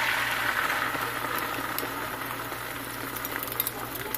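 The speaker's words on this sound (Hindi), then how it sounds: "अब मैं इसके अंदर जो हमने ऑमलेट बनाया था वो डालेंगे" An omelette mixture of egg and cheese sizzles and crackles steadily in a hot pan over a high flame, a loud, continuous, close frying hiss with scattered pops and no talking.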